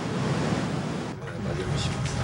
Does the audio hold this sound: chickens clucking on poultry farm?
no